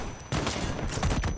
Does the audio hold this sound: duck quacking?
no